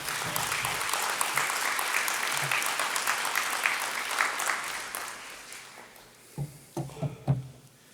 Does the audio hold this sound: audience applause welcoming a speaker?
yes